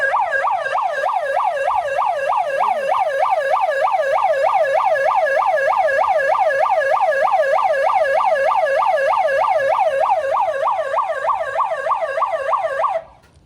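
A cargo boat's siren on the Amazon River, loud and steady, wailing and rising and falling in a fast, regular cycle for several seconds, continuous until it cuts off abruptly at the end.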